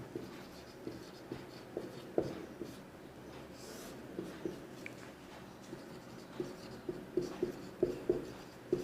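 Handwriting with a pen or chalk during a Hindi science lesson on friction, soft scratchy strokes and small taps in an irregular rhythm, close and quiet with no talk.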